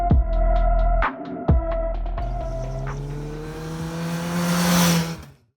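A 2021 Suzuki Hayabusa sport motorcycle engine revs and roars with sharp throttle blips, then a sustained rising drone builds loudly before cutting off near the end.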